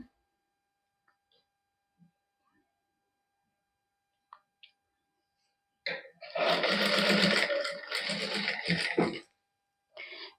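Sewing machine stitching net lace onto a suit sleeve, a loud steady whirring run lasting about three seconds after near silence with small handling clicks, then a brief restart at the end.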